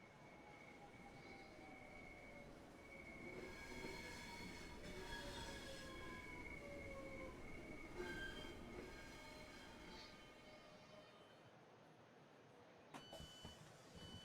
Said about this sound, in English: There's our train approaching